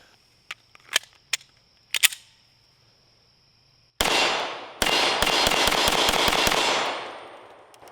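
A few sharp, distant pops sound first, then a rapid burst of loud Smith & Wesson SD9 2.0 pistol shots close by at steel targets, each crack followed by a ringing tail.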